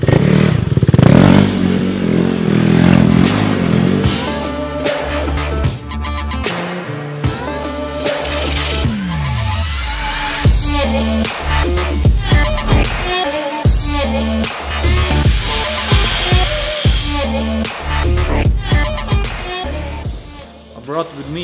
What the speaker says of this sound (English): I took your RC a little bit to make some spins here in the workshop